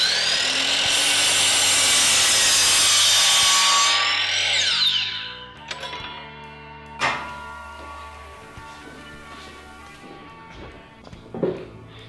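A miter saw cuts lumber at a 45-degree angle for a hose flag frame, its loud whining blade biting for about five seconds before spinning down, followed by a few clunks and taps of wood handling.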